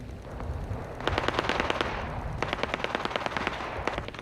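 Gunfire in Fallout 76, bursts of rapid sharp shots in two clusters over a steady ambient bed, moderately loud and close, with no talk.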